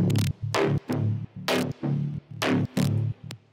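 A heavily distorted pluck bass in a hard techno track, gritty, punchy notes in a stuttering rhythm with abrupt gaps between hits, loud and upfront with no vocals.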